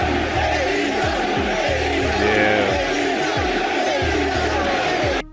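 A large wrestling crowd in Sacramento chants in a steady repeated rhythm, loud and sustained, filling the arena with a continuous roar of voices.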